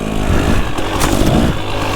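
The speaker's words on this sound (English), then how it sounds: "Now I can go up and do enduro riding up in the hills with no problem at all." An enduro motorcycle's engine roars loud and close as it is ridden up hilly terrain, a continuous gritty drone with slight revving swells and no talking.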